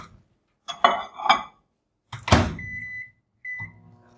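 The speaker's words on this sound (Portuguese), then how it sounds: "200 eu vou levar para o micro-ondas para derreter" A microwave oven is used to melt white chocolate: a couple of clunks and clinks from the door and dish, a sharp bang, then short electronic beeps, all close by with no speech.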